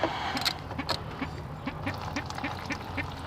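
Coolant draining from the bottom drain of a Can-Am Outlander ATV, a steady run of rhythmic, close gurgling glugs over a low background hiss.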